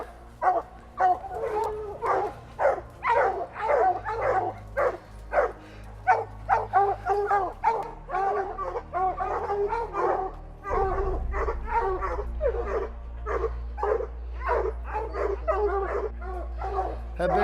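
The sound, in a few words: hunting dogs barking at a treed bear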